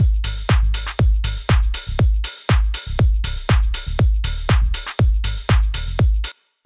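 Sub bass layered with punchy kicks and drums in a dance-pop remake, driving a loud, steady four-on-the-floor pulse of booming low hits with bright transients, alone until a short drop-off at the end.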